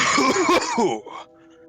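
A single loud, harsh cough bursts out close by, followed by a brief quieter tail, with no talking.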